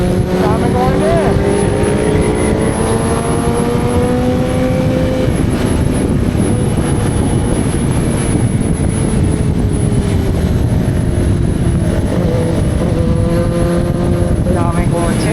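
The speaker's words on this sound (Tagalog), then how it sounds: "Daming kotse." Steady drone of cars and motorcycles passing on the road during a group Independence Day ride, engine tones rising and falling under constant wind rush, with voices talking over the traffic.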